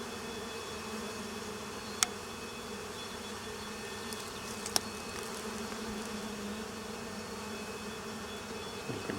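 Honeybees buzz steadily over a hive frame of capped and uncapped brood, a dense close drone with no voices and a couple of faint clicks.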